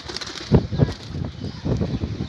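A pigeon beats its wings in a few quick bursts of flapping as it comes in to land, close and fairly soft, with faint background ambience.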